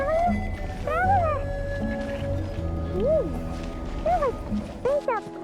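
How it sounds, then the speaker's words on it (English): A cat in the video game Genshin Impact meows several times in short rising and falling calls, spread across a steady bed of game music and ambience. "There's a kitty over there."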